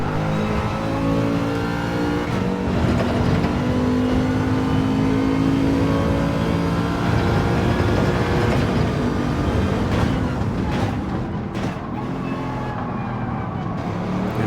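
Race cars in a racing video game weave side by side through a run of esses, engines droning and revving continuously and loudly up close for the whole stretch, with pitch rising and falling as they change gear.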